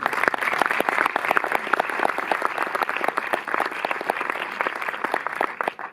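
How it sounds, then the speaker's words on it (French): A cinema audience at a Méliès screening in Montreuil applauds the film's distributor, a dense, steady burst of many hands clapping for about six seconds before tapering off at the end. "c'est le moment d'applaudir Clara Dupac"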